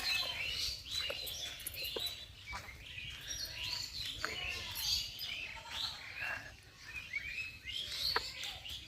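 Birds chirp steadily around a nest at a rural pond bank with grazing cattle nearby, a busy, continuous twittering of many small calls at moderate distance with no talking.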